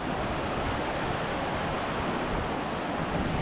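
Water rushes continuously at Sondayi waterfall near Vavarle, Karjat, a dense, steady broadband roar that is fairly loud and unbroken, with no voices heard.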